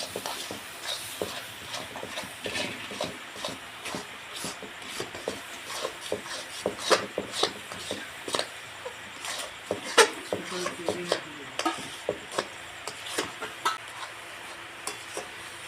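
Semolina and milk powder sweet is stirred and scraped in a kadai with ghee. Close, repeated rasping strokes come in an uneven rhythm, with a faint sizzle underneath.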